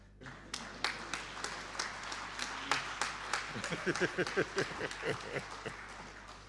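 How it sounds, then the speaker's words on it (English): Civil servants in the audience at an environmental health excellence awards ceremony clap in sparse, uneven bursts, individual claps standing out over a low steady hum, with a voice speaking briefly partway through. "the applause is coming only from civil servants"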